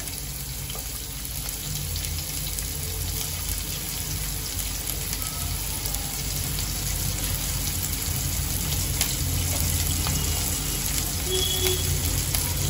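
Chopped onion sizzles in hot oil in a pan, a steady dense frying hiss that runs unbroken throughout at fairly close range.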